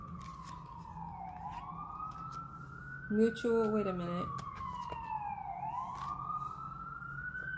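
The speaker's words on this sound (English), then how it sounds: "Sorry, there's sirens." A siren wails steadily in the distance outside, its pitch rising and falling slowly, while a voice speaks briefly partway through.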